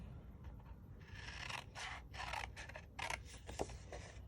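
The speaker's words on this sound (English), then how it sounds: "So we're gonna use our scissors here." Scissors snipping through cardstock while trimming a birdhouse piece for a handmade easel card, a series of short close crisp cuts and rustles, no talking.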